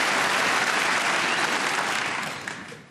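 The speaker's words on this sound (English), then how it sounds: "you can just hear the Judd Trump supporters in the Tempodrome cheering their man on" Snooker crowd in the Tempodrome at the German Masters applauding and cheering Judd Trump, a full, sustained burst of clapping that holds strong and then tapers off toward the end.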